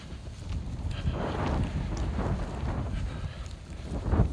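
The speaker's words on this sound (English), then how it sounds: "It's colder and windier up here than it was" Cold wind buffets a mountain stretch of the Appalachian Trail near Hogpen Gap, a low, rumbling roar with gusts swelling and easing, close and hitting the microphone directly.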